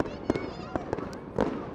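Fireworks bursting over city buildings at night, several sharp booms and crackles spaced apart against a steady background murmur, with faint voices in the distance.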